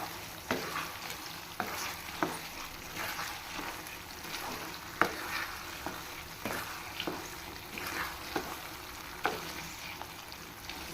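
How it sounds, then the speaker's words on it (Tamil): Thothal halwa thickens in ghee and coconut oil while being stirred in a pan, giving a soft continuous sizzle with periodic scraping strokes of the spoon, close and fairly even, with no voices. "தொதல் நல்லா வெந்து வருது பாருங்க."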